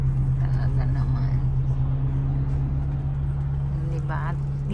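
Steady street traffic rumbles close around a moving bus in Toronto, a low engine drone with passing vehicles, while people talk over it throughout.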